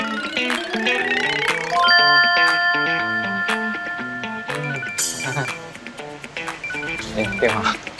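A telephone rings with a repeating melodic electronic tone in a drama scene, bright chiming notes sounding loud and close, alone without talk.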